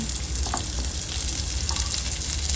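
Ginger and onion frying with chicken in a pan, a dense, even sizzle close up with faint crackles and no pauses.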